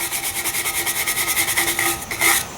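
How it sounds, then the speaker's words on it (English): A cast iron sign being scrubbed to lift rust, dirt and chipped paint, giving a fast, rhythmic rasping stroke repeated about twenty times, loud and close. "you can see the rust coming up as I'm scrubbing"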